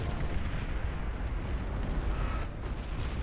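Plasma cannon fire in the strategy game Beyond All Reason, units raining shots down from high ground: a dense, continuous rumble of booming bursts and explosions, loud and steady throughout.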